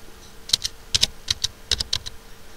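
Typing on a computer keyboard, with clusters of quick sharp key clicks coming in short uneven bursts. The clicks are close and clear against a quiet background.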